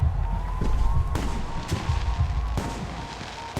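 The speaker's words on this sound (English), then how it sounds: "The noise from those fireworks should cover the sound of gunfire." Fireworks boom and crackle over a memorial in Taipei in the video game Alpha Protocol, with several loud bursts rolling over a dense, continuous roar.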